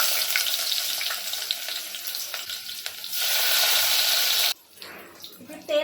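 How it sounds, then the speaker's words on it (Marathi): Onion dropped into hot oil for prawn biryani makes a steady, close sizzle with watery crackle that rises around the midpoint, then cuts off sharply near the end, leaving faint clatter. "मी इथे ना तेल गरम करायला ठेवलंय आपण कांदा टाकून घेऊया"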